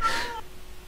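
A cat mob in Minecraft gives a single short meow lasting under half a second, followed by quiet game ambience.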